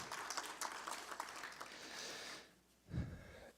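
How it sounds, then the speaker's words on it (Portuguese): Applause from the audience at a formal ceremony awarding the Carlos Gomes medal, a dense spread of clapping that carries for about two and a half seconds and then fades, followed by a short low thump or breath near the end. "também peço uma salva de palmas para a nossa segunda homenageada da noite"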